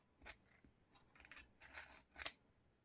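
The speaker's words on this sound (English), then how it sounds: "Draw scissors across the bar, slow and firm strokes as if cutting the bar." Quiet, close metallic scrapes repeat in slow, separate strokes, ending with a brighter, sharper rasp, like scissors being drawn across a sharpening bar.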